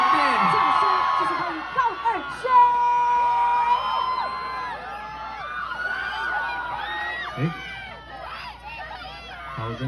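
A concert crowd at Chaoyang University of Technology's WINDS show cheers loudly, with high whoops and shouts rising over a dense hubbub of voices that swells and settles across the clip.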